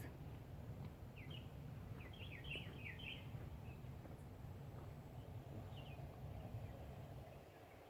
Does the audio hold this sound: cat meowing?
no